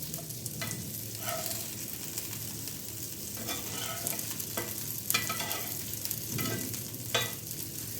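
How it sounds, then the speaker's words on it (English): Prawns fry on a hot tawa with a steady close sizzle and bright crackling spits, alongside occasional scrapes of stirring for the whole stretch. "The prawns are also fried nicely."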